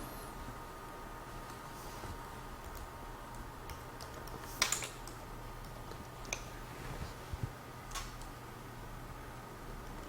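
A password being typed on a computer keyboard, scattered sparse key taps and clicks at close range over a steady low hum, with no talking.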